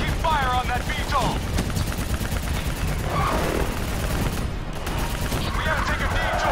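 Sustained heavy automatic gunfire in the Call of Duty Black Ops 3 campaign, loud and continuous battle noise with shouted voices over it throughout.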